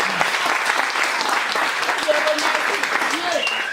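A church congregation applauds for the Holy Spirit during a testimony service with a prophet, a loud, dense burst of clapping that fills the room, with voices and cheers mixed in.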